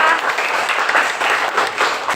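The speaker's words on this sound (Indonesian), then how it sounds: "kita berikan tepuk tangan yang meriah" An audience applauds a third-grade class's school drama performance of Malin Kundang, a brief burst of close, fairly loud clapping from a modest group, uneven and crackly rather than a large hall's roar.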